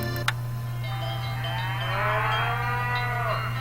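Cattle moo in a radio commercial within the Nancy Drew game The Secret of Shadow Ranch, one long drawn-out low call rising and bending over a steady electrical hum, fairly close and alone without talk.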